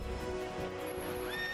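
A mechanical horse in the Final Fantasy XIII video game lets out a brief whinnying neigh over a layered game soundscape.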